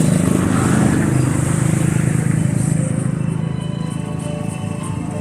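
A freshly tuned motorcycle engine idles steadily and loudly up close, a constant rumbling drone that eases slightly toward the end, with no talk over it.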